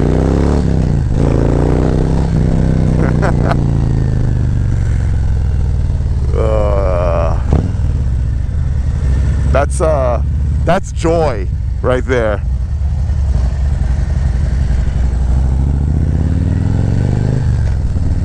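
Harley-Davidson Milwaukee-Eight (M8) motorcycle fitted with a Screaming Eagle cam, riding with a steady low engine drone throughout and a few rising revs, under a rider's talk.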